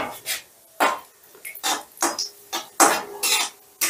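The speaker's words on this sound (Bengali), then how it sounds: "একটু নাড়াচাড়া করে কাজু বাদামটা ভেজে নেব" Cashew nuts, about a dozen, tossed in lightly heated white oil in a wok, making a run of close, bright scraping clatters as a utensil stirs them, each stroke a crisp burst separated by short pauses.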